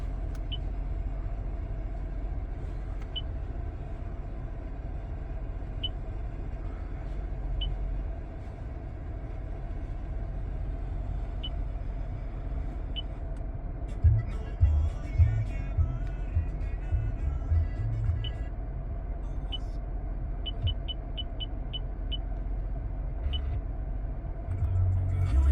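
A 2022 Toyota Tundra TRD engine idles after start-up, a steady low rumble running throughout, close and fairly loud, with a few brief louder swells and light clicks near the end.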